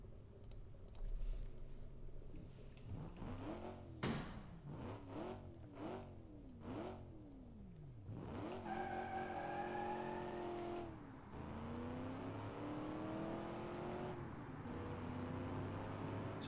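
Muscle car accelerating hard in a racing video game: clicks, then a series of rising engine revs through quick gear changes, followed by a sustained climbing engine drone, steady and fairly clear with no talk.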